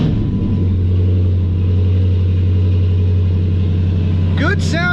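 A 6.1L Hemi engine idles steadily with a deep, constant low rumble, loud and close, with a brief higher whine near the end.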